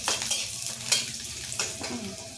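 Onion, dry red chili and black cumin seeds hiss and sizzle in hot oil as a tempering. Close, lively frying noise is broken by several scrapes and clinks of a spoon stirring in the pan, with no talking over it.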